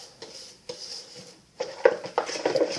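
A spatula scrapes around the edges of a Thermomix bowl, giving a few short scraping strokes at first, then a quicker run of clinking, rubbing scrapes toward the end, all fairly close.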